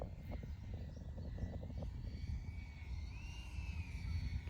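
A Freewing T-33 RC model jet on landing approach with flaps down, carrying a little power. A faint, distant whine that rises in pitch sits above low rumbling wind noise.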